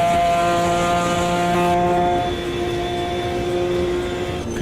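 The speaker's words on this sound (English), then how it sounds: "you can hear the transmission whirring" Racing car in Automobilista 2 heard from the cockpit, a steady high transmission whine layered over engine drone, pitch holding then dropping slightly as revs change, loud and continuous with no talking.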